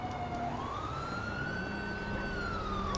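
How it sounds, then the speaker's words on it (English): A police car siren in GTA 5 on a Chicago-style patrol, one long wail slowly sweeping up and back down, steady and fairly far back, with no talk over it. "And it's definitely my siren still going off."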